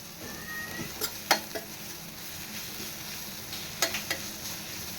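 A chilli bajji stuffing mixture, seasoned with chaat masala and salt, is stirred in a pan, with a low steady rustle and a few sharp clicks of a spoon against the pan, no talking.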